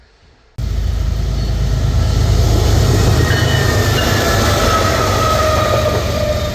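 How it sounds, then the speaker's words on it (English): A Norfolk Southern locomotive and westbound auto rack freight train rumble past close by on a rainy day, a loud, steady roar of rolling wagons that starts abruptly and holds for several seconds. "Caught this locomotive as a mid-DPU on a westbound auto rack train."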